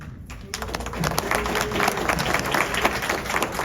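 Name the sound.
audience applause at library board meeting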